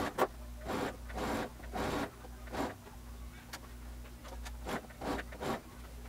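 Sewing machine topstitching a dress lining along the seam: quiet bursts of rapid mechanical stitching, stopping and restarting about eight times over a low steady motor hum.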